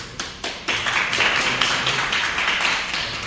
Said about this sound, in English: they deserve one more applause.